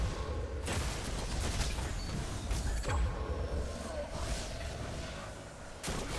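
The QUANTIPLASM weapon fires in Destiny: Rise of Iron, a few sharp blasts spaced apart amid busy game noise and mechanical creaks.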